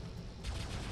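Weapons fire in the War Robots mech battle game comes as a dense, rumbling barrage of heavy shots, steady and moderately loud with a thicker burst midway.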